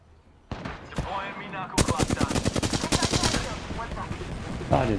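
Rapid automatic gunfire from the Apex Legends video game rattles in a fast, steady burst after a couple of single shots, loud and close, with game sounds around it.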